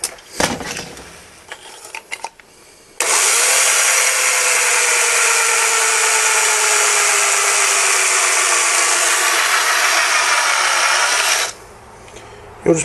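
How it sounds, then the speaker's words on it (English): A power drill bores out the air restrictor inside a Nerf Nitefinder barrel, a loud steady whine running about eight seconds with pitch slowly dropping under load, preceded and followed by handling clatter. "we're going to get a drill and very carefully destroy the air restrictor."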